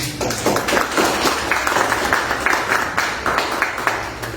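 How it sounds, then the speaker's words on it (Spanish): An audience applauds speakers at the close of a panel event on United States and Latin American relations, steady clapping filling the room for several seconds without pause. "Un aplauso para los expositores"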